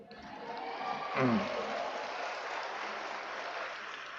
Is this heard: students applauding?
yes